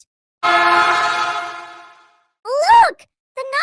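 A cartoon train horn in a children's numbers video blows one long, loud, steady honk that fades out, followed by brief bursts of cheerful sound.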